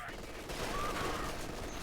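Small-arms and machine-gun fire from rear echelon troops being gunned down in Company of Heroes 2, a steady dense burst of gunfire running through the clip under game noise.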